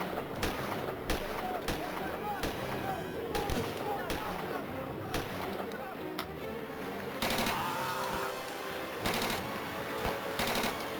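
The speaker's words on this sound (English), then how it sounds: "I'm not even sure the sound effects are matching the gun movements" Gunshot sound effects from the film Birdemic 2 crack in rapid, irregular bursts, sharp bangs layered over a dense, busy soundtrack with voices talking throughout.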